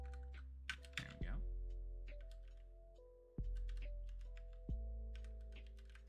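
Computer keyboard typing while entering details for a Pulumi serverless Rust deployment, sparse soft keystrokes in a few short clusters over a steady electrical hum, close and quiet.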